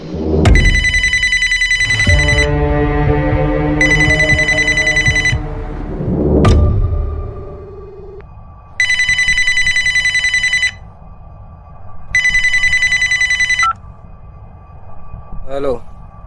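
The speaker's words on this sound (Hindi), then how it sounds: "फोन उठाइए ना उस्ताद।" A telephone rings in repeated electronic bursts, loud and close, with pauses between rings, while a voice speaks briefly in Hindi over the first rings.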